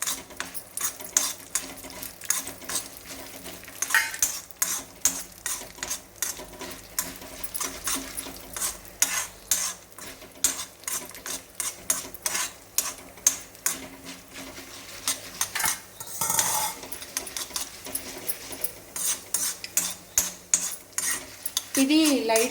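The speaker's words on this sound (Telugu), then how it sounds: "ఇది లైట్గా ఫ్రై కావాలి" Urad dal and chana dal fry in a pan on a stove. The dry lentils rattle and scrape against the metal in constant busy stirring, with a light sizzle underneath and no talk.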